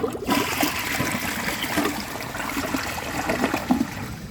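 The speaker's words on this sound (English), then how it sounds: "let's just give this another flush and see if it can clear the rest of that stuff out" A Vilbomex toilet flushes with a gurgling rush of water into the bowl, then trickles and splashes steadily for several seconds, close and moderately loud.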